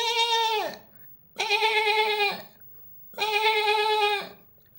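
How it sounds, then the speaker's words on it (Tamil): A domestic goat bleats three times, close and loud, each long wavering cry separated by a brief pause. "இது வெள்ளாடு."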